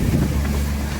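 A small boat slams through rough water, a continuous roar of engine, wind and spray filling the short stretch with no talk.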